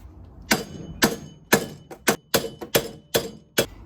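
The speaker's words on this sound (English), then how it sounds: "We're gonna hit it with the hammer and knock him loose." Nine sharp metallic hammer strikes ring out in a steady rhythm on the front wheel hub of a 2005 Chevrolet Equinox 3.4, knocking it loose, each blow crisp and loud against metal, with quiet pauses between.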